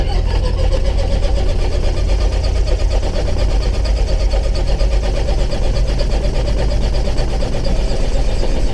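A fuel-injected engine running right after an injector adjustment, a steady loud mid-pitched drone that holds throughout without pause, with no voices over it.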